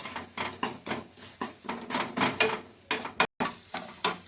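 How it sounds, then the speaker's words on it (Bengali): An egg sizzles in a hot pan with spices while being stirred in rhythmic scraping strokes, close and steady, with a brief gap near the end. "একটু গ্যাসটা সামান্য জোরে করে দেবেন, ডিমটা ফ্রাই হবে তো"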